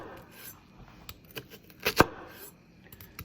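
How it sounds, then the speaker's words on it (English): A knife chops an onion on a cutting board, giving a handful of soft, uneven taps close by, with one sharper knock near the middle of the short burst and no voices. "to cut an onion, you slice it in half"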